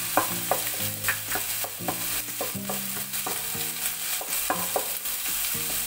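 Meat and garlic sizzle steadily in a hot pan while a utensil scrapes and stirs in repeated strokes, close and fairly loud, with no voices.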